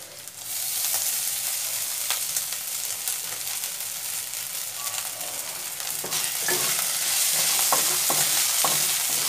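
Chopped ginger sizzles in hot oil in a pan while being stirred, with steady frying crackle and a few scraping stir strokes toward the end, close and fairly loud with no talking.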